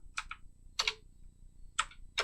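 A computer keyboard clicks through a few isolated key presses during a Python programming lesson, faint, sharp taps spaced irregularly over a quiet room hum.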